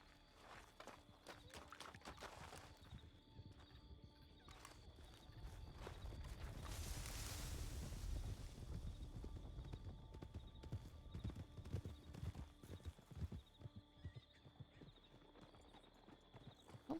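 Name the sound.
horse hooves clip-clop in the video game RedM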